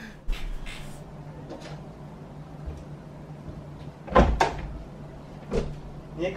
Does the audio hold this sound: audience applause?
no